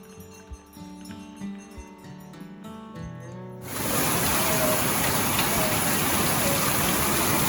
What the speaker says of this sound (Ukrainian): Встигли повернутись додому якраз перед грозою і таким сильним дощем.